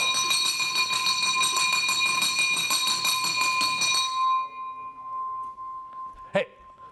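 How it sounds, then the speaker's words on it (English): A hand bell rings rapidly and brightly in an office to celebrate a sale, a sustained clangor for about four seconds that then stops abruptly, followed by a single short sharp sound. "we ring the bell and then we scream and clap like crazy every time that somebody sells something"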